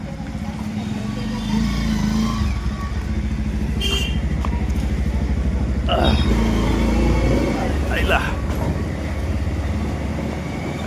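A Bajaj Pulsar motorcycle rides along a road on the way to a Khanderao Maharaj fair near Satana, with a steady engine and wind rumble running loud throughout while people talk over it.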